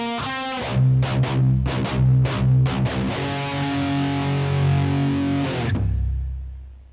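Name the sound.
distorted electric guitar playing a lick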